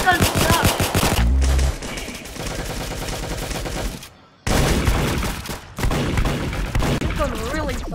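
Rapid gunfire from the video game Arsenal rattles in dense, loud bursts, broken by a short silent gap, with a voice talking over parts of it.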